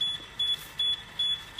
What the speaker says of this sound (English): If I pour that gas, the alarm goes off and the valve shuts automatically.